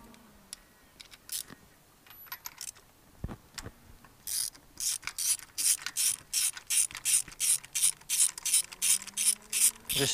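Ratchet and socket working on the spark plugs of a 1978 Honda GoldWing: a few scattered clicks and knocks at first, then a fast, close run of sharp ratchet clicks in steady bursts, with faint voices in between.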